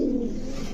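A red patti pigeon gives a single short, low coo, close by and alone.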